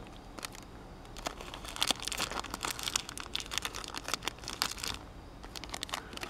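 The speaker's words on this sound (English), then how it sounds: "let's open this end first. Tear nice and easily." Close-up crinkling and tearing of LOL Surprise doll packaging, a busy stream of crisp plastic and paper rips and rustles lasting several seconds.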